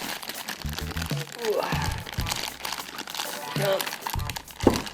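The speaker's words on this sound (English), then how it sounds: "Let me just get this guy out of his packaging." Unboxing a Safari Ltd. 2018 Ankylosaurus figure, with plastic packaging crinkling and crunching close by in bursts while a person talks excitedly over the handling.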